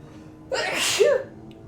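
One short, sharp human sneeze, close and clear against a quiet background.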